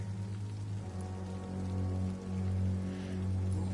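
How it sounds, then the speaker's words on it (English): Steady rain falls outdoors at a hospital, a continuous wash of drops behind a low, sustained hum, with no talking. "We are standing in the rain."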